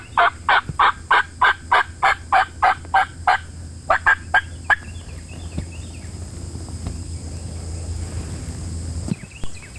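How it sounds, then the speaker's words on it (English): A wild Osceola turkey in Florida gobbles in a rapid series of loud, rattling bursts, followed by fainter gobbling clucks and quieter outdoor background. "we were hoping a big long-bearded gobbler"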